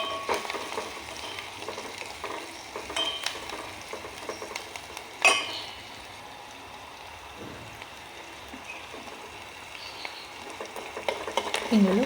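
Onions frying in a pan with salt and turmeric for a gongura chana dal curry: a steady soft sizzle throughout, with occasional stirring scrapes and a sharp clink midway.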